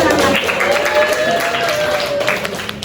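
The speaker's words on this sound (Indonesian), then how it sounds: "kasih tepuk tangan" Applause from a seminar audience in Indonesia, a short burst of clapping that runs under a speaker's voice and thins toward the end.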